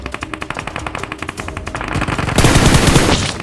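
Rapid automatic gunfire from PUBG Mobile, a close, loud string of evenly spaced shots that swells into a denser, heavier burst near the end.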